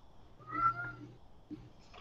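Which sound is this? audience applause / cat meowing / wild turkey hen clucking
cat meowing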